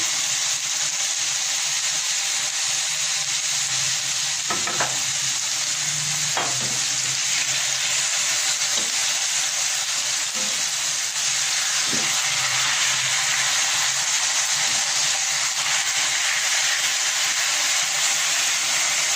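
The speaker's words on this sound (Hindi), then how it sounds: "मैं ये प्याज को फ्राई करने के बाद चिकन के कीमे को फ्राई कर रहा हूँ आपके सामने" Chicken mince fries on a restaurant-style tawa after the onions, giving a steady, loud sizzle with a few sharp spatula scrapes and stirs cutting through the hiss, and no talk.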